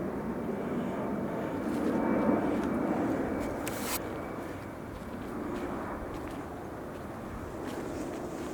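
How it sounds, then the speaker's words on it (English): A distant airplane circles over woods and descends, a faint, steady low drone that swells and fades under outdoor ambience, with no talking. "There's another plane."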